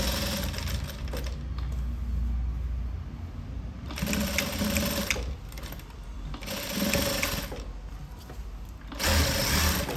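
An electric sewing machine stitches a cross-cut blouse, running close and steady in a rapid whirring chatter, broken into several long bursts with short slower gaps between them.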